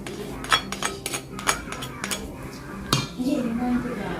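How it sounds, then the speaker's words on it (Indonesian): A spoon stirs a tempeh nugget mixture with carrot, leek, celery and garlic in a bowl, giving repeated clinks and scrapes against the dish while a person talks. "Ini kita aduk dulu ya biar merata sebelum kita kasih telur."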